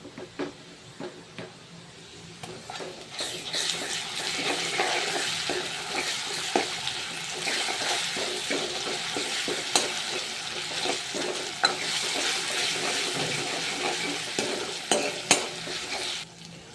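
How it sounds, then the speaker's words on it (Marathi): Garlic ginger paste fries in a pan for fish curry, a steady sizzling hiss with repeated scraping clinks of a spoon stirring against the metal, close and continuous throughout. "लालसर होईपर्यंत त्याला भाजायचं आहे."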